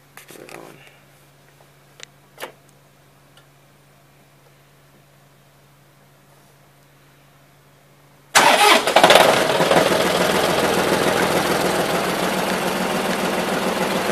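A John Deere tractor engine cranks and catches, then settles into a steady, loud idle close by after several seconds of near silence with a few faint knocks.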